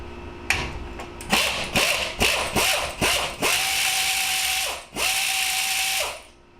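A ratchet on an extension spins a 16 mm bolt on a Skeeter ZX195C boat trailer's brake, giving loud, close bursts of rapid clicking, with several short strokes followed by two longer sustained runs.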